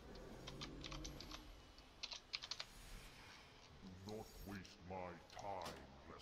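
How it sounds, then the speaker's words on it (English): Computer keyboards clatter during a late-night online raid voice chat, quick faint key taps scattered in the background, followed by muffled talking over a steady hiss. "We don't want to be hearing freaking keyboards clattering all over the place and people breathing."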